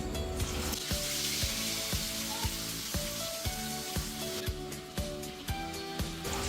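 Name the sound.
fish frying in oil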